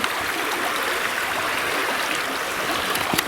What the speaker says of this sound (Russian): Ручеек попадает.